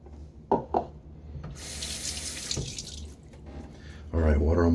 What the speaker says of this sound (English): right, water on my face.